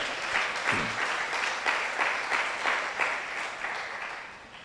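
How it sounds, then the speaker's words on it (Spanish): Church congregation gives a strong round of applause during a Sunday service, a dense, rippling crowd clapping that swells in waves and eases off slightly toward the end. "Dele fuerte ese aplauso."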